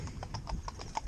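Lipizzaner horses' hooves clip-clop in a steady, even rhythm on the ground, several close, distinct strikes in quick succession.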